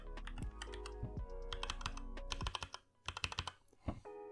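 Quick typing on a full-size HyperX mechanical keyboard with Aqua tactile switches, a dense run of close, crisp key clicks with a brief pause before a final burst, with no talk.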